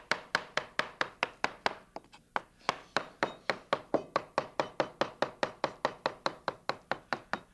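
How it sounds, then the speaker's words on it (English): Spinach chopped with a stainless steel knife on a board, a quick, steady run of crisp taps, about four per second, close up and clear, briefly pausing once before resuming. "you want to chop up the spinach and you want to chop with a stainless steel knife"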